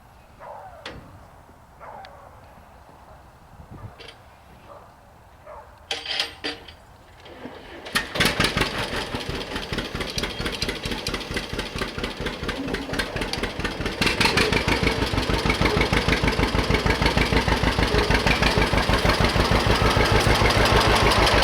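Old John Deere 620 two-cylinder tractor engine on a farm, quiet at first, then starting up at about eight seconds into a steady, loud chugging idle that grows louder and busier near the end.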